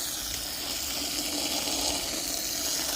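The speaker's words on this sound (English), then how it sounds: "you add water." Tap water pours into a bucket in a steady, continuous gush, a close, even rushing hiss with no pauses and no talking.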